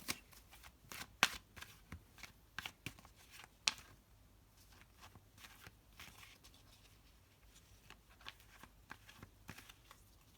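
Tarot cards being shuffled by hand, a series of soft riffling bursts and papery slaps close up, fairly quiet, with no talking.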